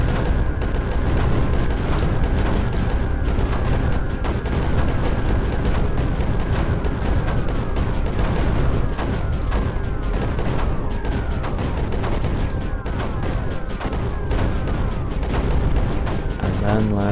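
Sniper units in the strategy game Creeper World 4 fire in a dense, continuous barrage of rapid shots and booms layered over a constant low rumble, with no pauses.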